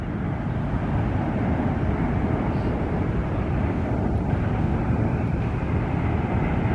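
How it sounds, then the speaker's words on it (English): Virgin Atlantic airliner passing near Bayfront Park in San Francisco, a steady deep rumbling jet roar that holds loud and even throughout, with no voices. "Virgin Atlantic, flight 1005 from London Heathrow."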